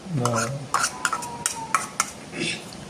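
A utensil scrapes and clanks against a pan in a string of short metallic knocks, with a brief voice at the start.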